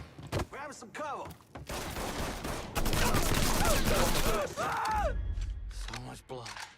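Gunfire in the Mafia video game: dense bursts of shots and rapid automatic fire with shattering impacts, loud and close, mixed with shouting voices throughout.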